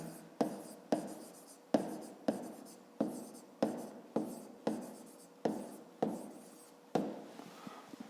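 Pen writing by hand on paper during a fifth-grade maths exercise, heard as repeated scratchy strokes in short bursts, each starting sharply and trailing off, close and clear with no talking.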